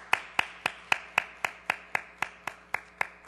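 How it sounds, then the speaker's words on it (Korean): A Korean church congregation at a Sunday worship service at Busan Dongbu Church claps in unison. About a dozen crisp, evenly spaced claps keep a steady rhythm, clear and alone. "우리 한 해 동안 열심히 수고하시라고 박수 한번 하도록 하겠습니다."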